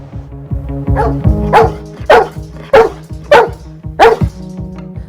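A dog barks six times in a steady, evenly spaced series, loud and close, with a faint low hum running underneath.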